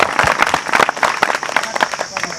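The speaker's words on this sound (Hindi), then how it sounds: "जोरदार तालियां।" Audience applause at an award ceremony, brisk dense clapping from a crowd, with a voice carrying over it.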